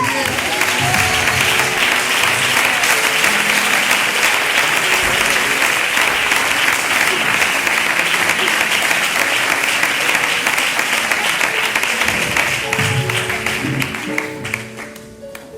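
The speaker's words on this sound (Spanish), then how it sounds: "un aplauso al Señor y que Dios les bendiga a ustedes" A church congregation at a Spanish-language Christian convention applauds loudly and steadily for about fourteen seconds, a dense wash of clapping that fades out near the end.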